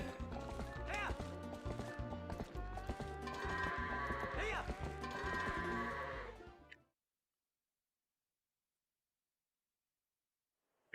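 Goats being herded in the Zelda game Twilight Princess, with a chorus of close, loud bleats mixed with trotting hoofbeats. They continue steadily for several seconds, then stop abruptly into silence.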